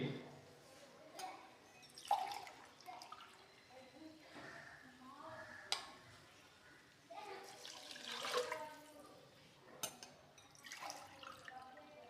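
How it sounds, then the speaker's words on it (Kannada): Water is poured from a glass into a pot of rice for vangi bath, heard as quiet splashing and trickling pours in separate bursts, with some soft voice sounds in the background. "ಈ ಲೋಟದಲ್ಲೇ 2 ಗ್ಲಾಸ್ ನೀರು ಇದ್ಬಿಡಿ."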